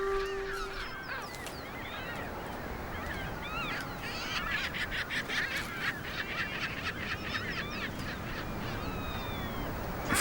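Robber skuas and seagulls call out over a penguin colony, a dense chorus of raucous, overlapping squawks and honks rising and falling above a steady background roar of the crowded birds.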